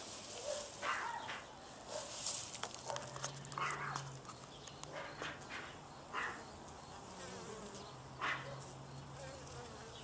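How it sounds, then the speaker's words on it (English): Honey bees buzz around a backyard hive, a faint, steady hum with occasional louder passes as individual insects fly close, alongside scattered rustles and small knocks. "Let's visit our friends, the bees."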